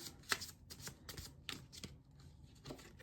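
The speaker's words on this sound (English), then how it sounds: "I'm going to pull another tarot card" A tarot deck being shuffled, with quick papery riffles and soft card snaps, followed by a single card drawn from the deck. The sounds are close and quiet, with no one talking.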